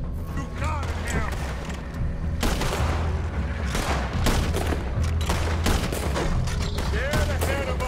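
Red Dead Redemption 2 gameplay brings repeated gunfire, sharp shots and bursts piling into a loud, close fusillade across the whole stretch, with voices speaking between and under the shots.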